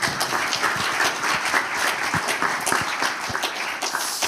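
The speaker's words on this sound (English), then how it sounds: "And one more round of applause to Kari, please." A conference audience at a climate-neutral cities event gives sustained applause, dense overlapping clapping from many hands filling the hall evenly with no talk over it.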